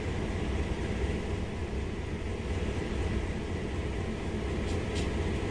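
A GP38-2 diesel locomotive in Train Sim World rumbles at a steady idle, a dense continuous low drone with even hiss above it that holds unchanged throughout.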